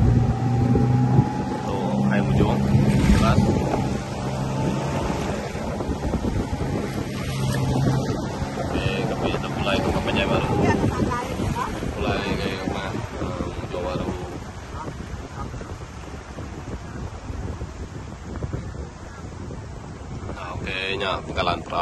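A boat travels along a river at Sungai Banyau near Kapit, its motor droning steadily and close with wind buffeting the microphone, and voices are briefly heard over the engine.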